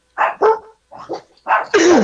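Several dogs bark loudly and close by in a quick run of sharp barks and yips, ending in a drawn-out howling bark.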